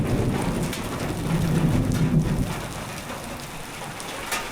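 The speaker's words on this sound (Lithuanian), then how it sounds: "Girdit griaustinį?" Heavy rain pours steadily on surfaces while a low rumble of thunder swells and fades midway through, with no voices.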